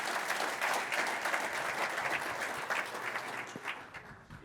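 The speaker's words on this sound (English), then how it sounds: "can we all give Mike a round of applause?" Audience applause for Mike at a presentation event in Houten, fairly distant and soft, a steady patter of many hands that thins slightly toward the end.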